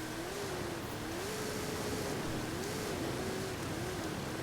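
A car engine redlining in the racing game Forza Horizon 5, a steady high-pitched drone held near the limiter that wavers slightly up and down throughout under a constant wash of road and wind noise.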